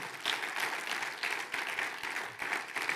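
A church congregation applauding during a sermon, many hands clapping in a steady, moderately loud patter with some sharper individual claps, no voices on top.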